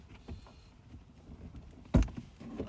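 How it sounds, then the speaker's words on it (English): A tailgate storage compartment door being opened: scattered soft clicks and rustles, then one sharp latch pop or thump near the two-second mark, followed by lighter handling noises, all close and fairly quiet. "I'm just trying to open the other door"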